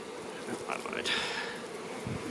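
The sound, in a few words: honey bees buzzing in an opened beehive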